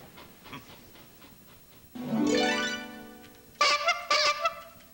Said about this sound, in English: Do you like my new horn, Billy?